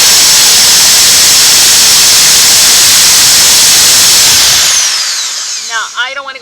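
A power drill whines loudly and continuously while building a ribbon storage tower, with construction noise nearby, then winds down and stops near the end, followed by a few brief voice sounds.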